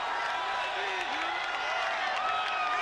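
Baseball fans at a 2010 World Series game in Arlington cheer and applaud a celebration, a broad distant crowd roar under a commentator's voice.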